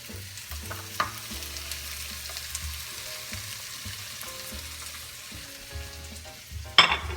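Fresh-cut tomatoes and onions sizzle steadily in a hot frying pan, a constant crackling fry under occasional stirring and scraping, with a sharper clatter near the end.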